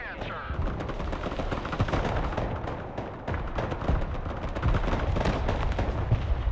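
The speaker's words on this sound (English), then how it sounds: "Rocket artillery at your command, sir." Rocket artillery fires in the video game Broken Arrow, a dense, continuous barrage of rapid launches and blasts rumbling without pause throughout.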